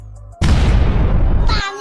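A cartoon firecracker goes off inside a pipe, a sudden loud boom that rumbles for about a second before ending abruptly.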